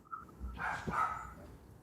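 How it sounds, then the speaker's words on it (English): A small dog, half Chihuahua, barks indoors in a few quick yappy bursts, fairly close and moderately loud over a quiet room. "this dog will stop barking in a second here"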